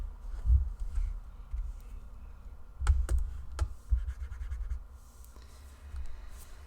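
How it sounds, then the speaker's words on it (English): A small keyboard is tapped in scattered, uneven clicks and scratchy taps at close range, with a few sharper knocks among soft handling noise and no voices. "I'm just seeing if my little keyboard's going to work"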